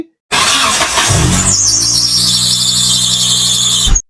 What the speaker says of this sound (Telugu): ఇంజిన్ లో ఉండే ఆల్టర్నేటర్ బెల్ట్ లో ఇష్యూ ఉంటే సౌండ్ ఇలా వస్తుంది